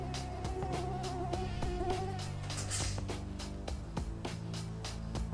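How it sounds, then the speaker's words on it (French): A mosquito whines inside a house, its thin tonal buzz drifting close to the microphone, with sharp clicking ticks repeating at a steady rhythm underneath. "il y a un moustique dans la maison"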